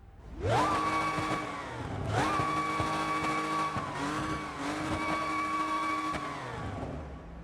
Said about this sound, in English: So, how does the supercharger 16 PSI? How does it sound?